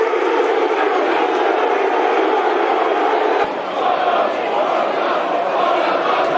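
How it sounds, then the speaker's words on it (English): A football crowd at a Millwall match applauds and roars, a dense, loud wash of stadium noise that sustains throughout with a brief dip partway. "You can hear the applause."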